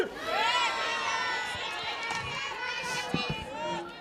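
Large crowd packed onto a grassy berm at a college softball tournament game in Lexington on a sunny day, steady murmur and chatter with scattered shouts, heard from a distance.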